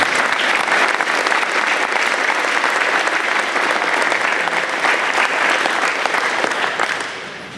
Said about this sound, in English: please give all those volunteers a round of applause.